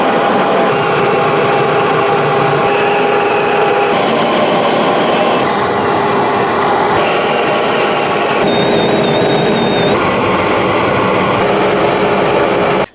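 A Harbor Freight dust collector fitted with an upgraded impeller runs at full power, a loud, steady jet-like roar with a high whine that shifts pitch in steps while it is tested with and without its pipe.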